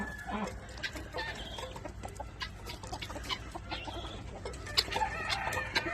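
Guinea fowl and other poultry call and cluck inside a coop, a busy, fairly faint mix of overlapping squawks and chatter, with no talking.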